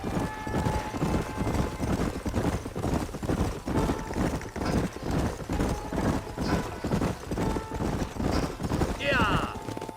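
Horses ridden in the Red Dead Redemption video game, a steady, rhythmic clip-clop of hooves from several animals trotting together, running continuously beneath people talking.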